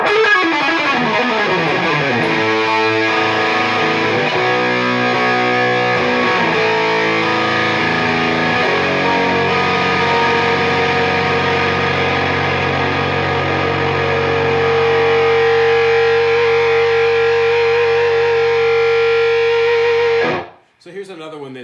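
Electric guitar played through a high-gain distortion pedal, a Silhouette guitar with a Snark tuner attached, sustaining thick saturated chords and riffs loud and steady for about twenty seconds before cutting off abruptly.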